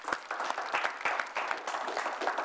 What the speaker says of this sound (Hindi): हमारा फर्ज बनता है कि हम जरा तालियां बजाएं